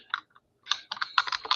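Quick rattling clicks of typing on a computer keyboard, heard up close: a short burst, a brief gap, then a denser run of keystrokes.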